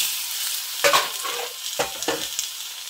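Mutton pieces hit hot oil in a kadai, a hissing sizzle with a few sharp bursts as the meat goes in and is stirred.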